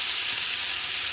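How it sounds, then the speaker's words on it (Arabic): Bread frying in a pan of oil gives a steady, close, bright sizzle that holds evenly for the whole short stretch, with no voices. "غادي نديرهم هنايا نشحرهم"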